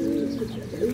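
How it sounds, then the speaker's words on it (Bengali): Young pigeons in a loft, cooing in a low, steady, rolling murmur close by, with no talk. "কবুতরগুলো অনেক ইয়াং দেখা যাইতেছে"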